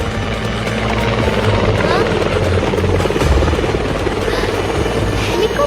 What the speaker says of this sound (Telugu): హెలికాప్టర్ ఎక్కాలి.